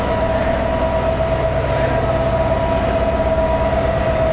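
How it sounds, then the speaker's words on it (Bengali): Bangladesh Railway 3000 series locomotive number 3026 shunting at a station, a loud, close, continuous engine drone with a steady humming tone and rolling rumble throughout. "লোকজন সব উঁকি মেরে দেখতেছে ট্রেনের শান্টিং হওয়ার বিষয়টা আর কি, লোকোর যে শান্টিং হয় সেটি"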